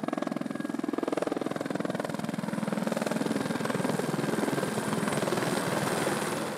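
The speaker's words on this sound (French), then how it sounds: "L'hélicoptère a monté le sac" Helicopter flying supplies up to a mountain refuge, its rotor producing a continuous rapid chopping thud with engine whine, steady and fairly close throughout, no voices.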